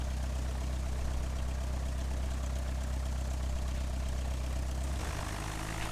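A Cessna 172 piston engine idles in Flight Simulator X, a steady low droning rumble with a fine rapid pulse that holds evenly and shifts slightly near the end, with no talking.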